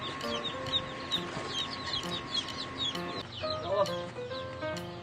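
Newly hatched chicks peep on a Korean farm, a busy chorus of thin, high chirps running throughout at close range, with some clucking from older fowl mixed in.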